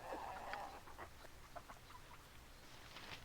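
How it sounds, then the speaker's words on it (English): Chickens cluck in short, scattered bursts in the video game Baldur's Gate II, faint and low in level against a soft background, with no talk. "The chickens are attacking."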